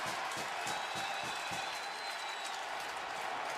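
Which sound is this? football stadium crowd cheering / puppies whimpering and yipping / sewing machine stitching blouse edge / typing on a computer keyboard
football stadium crowd cheering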